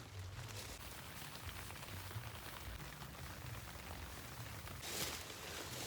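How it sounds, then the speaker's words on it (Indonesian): Steady rain falls outdoors on a mountain hiking trail on Mount Merbabu via Swanting, a continuous dense hiss with a low rumble, even and unbroken throughout with no talking. "Dingin, Hujan. Hujan."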